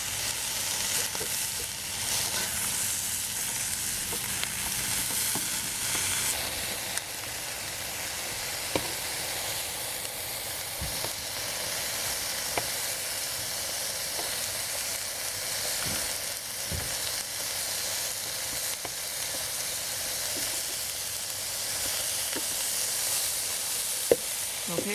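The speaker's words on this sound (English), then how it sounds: "I'm going to fry a little bit and turn it just like that, right?" Portobello mushrooms sizzle steadily in a hot frying pan, a continuous bright crackling hiss with scattered small pops and ticks, close and fairly loud throughout with no talking.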